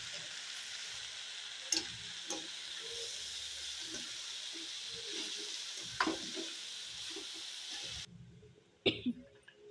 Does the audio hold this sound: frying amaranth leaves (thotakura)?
yes